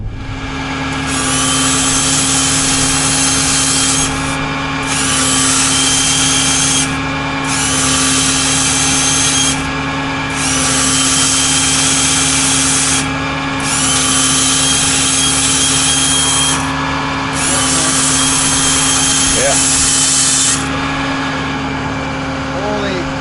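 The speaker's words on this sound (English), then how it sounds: "took a whack at it with their a little chainsaw to kind of open the hole for me" A loud, buzzing small chainsaw cuts into a tree, running nearly nonstop, revving in long bursts with brief dips between, over a steady low drone.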